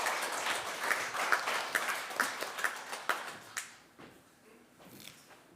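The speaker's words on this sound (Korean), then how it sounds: "박수." A small church congregation claps in a short burst of applause that fades out after a few seconds, followed by quiet.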